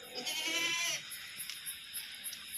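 A goat on a goat farm lets out one loud, wavering bleat near the start, followed by quieter farmyard background with faint distant chirps.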